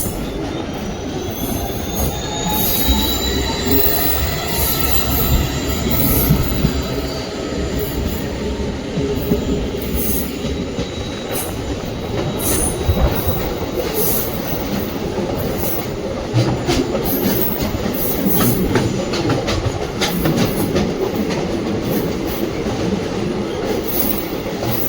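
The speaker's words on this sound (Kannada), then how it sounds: "ಇವಾಗ ನಮ್ಮ ಚಿತ್ರದುರ್ಗ ಹುಬ್ಬಳ್ಳಿ ಡೆಮೋ ಎಕ್ಸ್ಪ್ರೆಸ್ ಬಂದೈತ್ರಿ ಈಗ ಹರಿಹರಗೆ." Chitradurga–Hubli DEMU express train rolling along the rails, loud and close, with a steady rumble, rhythmic wheel clacks and high squealing from the wheels.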